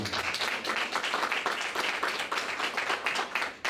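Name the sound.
audience applause for Mme Dubois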